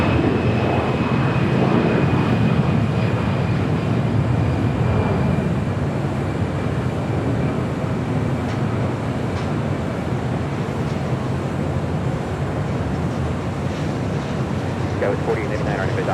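A jet airliner rolls for takeoff on runway 25 right at LAX, a steady distant engine roar and rumble that holds for the whole stretch, with faint radio chatter now and then.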